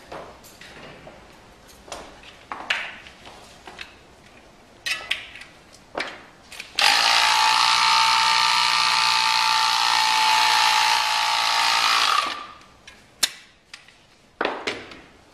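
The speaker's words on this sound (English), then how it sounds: "Next thing we're going to do is put just a little bit of air in, enough so that it's round" Craftsman pump putting a little air into a tubular bicycle tire, a steady loud hissing rush lasting about five seconds, framed by scattered clicks and handling knocks before and after.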